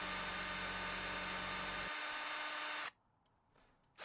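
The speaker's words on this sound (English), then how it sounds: "we're probably gonna be drilling some holes in the walls and putting some screws in to hold up the shelf" An electric drill bores holes into a wall for a shelf in House Flipper 2, a loud, steady whirring drone that cuts off abruptly, leaving near silence and then a faint return.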